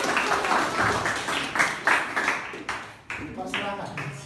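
Lively classroom applause for a student group at a school presentation, dense overlapping claps that pulse and swell, fairly close and loud, with voices mixed in.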